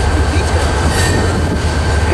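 A train rolls past at close range during railfanning in the Ontario and Cajon area, a loud, steady rumble of wagons and wheels with a low droning hum throughout, no voices.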